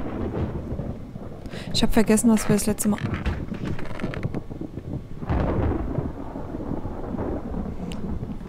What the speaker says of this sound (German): Es gewittert wieder draußen.